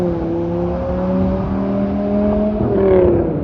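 Dodge Viper's 8-liter V10 idles and revs through a still-muted aftermarket exhaust, a steady low drone with a rising swell near the end, close and continuous with no talk.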